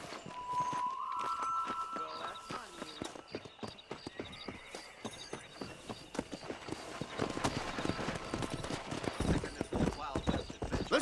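Horse galloping in the western game Red Dead Redemption, hooves drumming in a quick, steady clip-clop that grows louder toward the end, with a whinny and voices talking over the ride.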